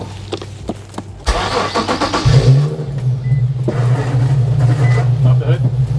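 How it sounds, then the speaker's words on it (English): An Infiniti Q50 tuned on E85 fuel cranks briefly and fires up. Its engine settles into a steady idle hum with a faint whine. Nearby voices talk faintly during the start. "so start the car"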